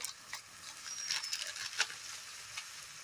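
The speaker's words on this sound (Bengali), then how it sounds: "দিয়ে ভালোভাবে মশলাটাকে কষিয়ে নেব।" Spices for a vegetarian cabbage curry sizzle softly in a little hot oil, a faint crackling hiss with light stirring clicks and small pops scattered throughout.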